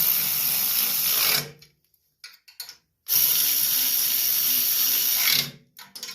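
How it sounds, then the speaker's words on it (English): Power tool or ratchet tightening the dirty, rusty mower deck hardware on a Toro TimeCutter zero-turn riding mower, two loud sustained whirring bursts separated by a short gap with a few brief clicks. "Go ahead and tighten this side down."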